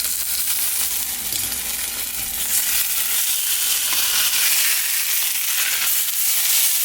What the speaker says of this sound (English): Oh, look at that sear.